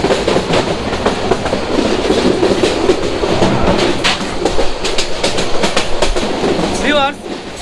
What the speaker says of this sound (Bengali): এখন আমরা সেই রেল লাইন দিয়ে আমাদের ট্রেনটি চলছে সিলেটের উদ্দেশ্যে